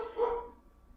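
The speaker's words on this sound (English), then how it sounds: "forgive my pup here in the background" A pet pup gives a single short bark, faint and indoors in the background, fading quickly into quiet.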